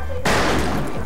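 A single sharp gunshot in the Western multiplayer shooter Fistful of Frags bursts in loud and close, then trails into a dense, ringing echo that fills the rest of the moment.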